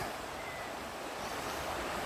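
A river along the Annandale Way path between Brydekirk and Newbie Barns in Dumfries and Galloway flows with a steady, full rushing wash that is close and continuous, with no voices.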